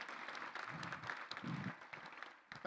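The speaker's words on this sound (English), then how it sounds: "Would you give Corey Rose a round of applause for even be here?" Audience at a paramedics awards celebration in Denver claps for Corey Rose, a short burst of fairly quiet, somewhat distant applause with murmuring voices underneath.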